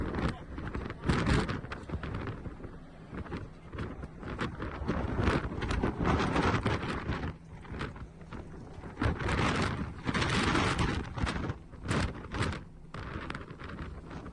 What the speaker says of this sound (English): Man, why is it so fucking windy out there?